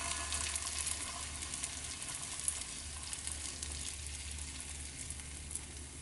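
Steady, close sizzling of sourdough discard pancake batter frying in a pan on low heat, a continuous crackling hiss with no talking.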